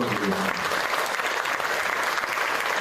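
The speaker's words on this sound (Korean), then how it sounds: "여러분 다시 한번 뜨거운 박수 부탁드립니다" An audience at a forum on the May 18 democratization movement applauds after a speech, a dense, steady wash of clapping that fills the room at an even loudness throughout, with no voices rising above it.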